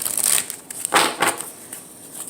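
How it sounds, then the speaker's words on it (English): Oracle card deck shuffled by hand, a few soft papery riffles and slaps in quick bursts, close and alone with no talk. "One more shuffle."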